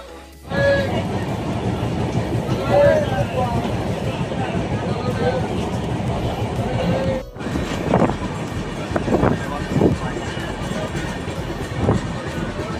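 The Dhauli Express passenger train rumbles steadily along with rattling, clattering carriage noise, while people talk nearby over the running noise.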